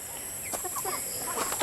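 Three layer hens clucking nearby in short, soft bursts, a few scattered clucks over a steady background hiss.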